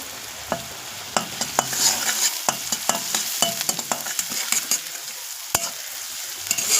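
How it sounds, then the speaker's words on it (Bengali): Onion, chili and garlic paste frying in a pan for a fish curry, a loud, close, crackling sizzle broken by frequent sharp clicks of a spatula stirring and scraping. "আমার পেঁয়াজ লঙ্কা রসুনটা খুব ভালোভাবে লাল লাল করে ভাজা হয়ে গেছে।"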